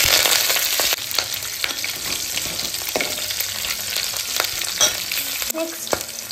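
Mustard seeds, cumin, garlic, curry leaves and green chilies crackle in hot oil for methi pappu, a loud, close sizzle broken by spoon scrapes and sharp pops.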